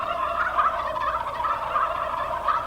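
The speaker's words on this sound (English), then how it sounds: "Yes, just look at all those turkeys." A flock of turkeys gobbles continuously, a dense warbling chorus at moderate loudness with repeated rising swells and no voices.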